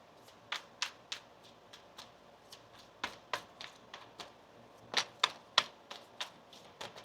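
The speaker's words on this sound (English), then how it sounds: "One more shuffle now." A deck of tarot cards is shuffled in a quiet room, making a series of sharp, separate snapping taps in an uneven rhythm with a denser cluster near the end.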